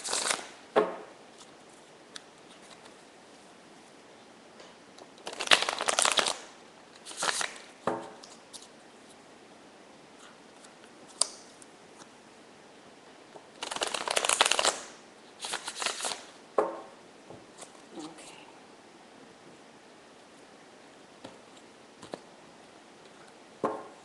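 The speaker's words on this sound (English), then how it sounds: "So I'm going to shuffle the cards" Cards are shuffled in several brisk riffling bursts separated by quiet pauses, with softer handling taps and rustles in between.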